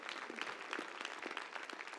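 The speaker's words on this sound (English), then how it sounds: "Let's give them all a round of applause to our great workforce." Audience applause at a city council presentation honoring the workforce during Black History Month, a steady, moderately faint wash of clapping from a gathered crowd lasting about two seconds with no voices over it.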